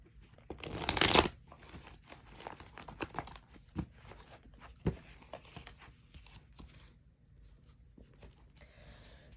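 Tarot cards being shuffled by hand, a burst of riffling near the start followed by scattered soft taps, slides and crinkles, quiet and close with no talking.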